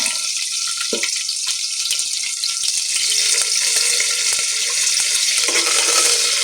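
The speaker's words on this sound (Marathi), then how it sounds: "त्याला छान परतवून घ्यायचं" Peas, peanuts, cashews and ginger-garlic paste sautéing in a pan, a steady close sizzle and frying hiss with occasional stirring scrapes, no talk.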